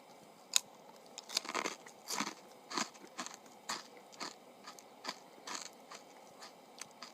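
Someone eating crunchy pork cracklings by a campfire, with close, sharp bites followed by a series of loud crunching chews in an uneven rhythm, about a dozen distinct crunches over a quiet background and no talking.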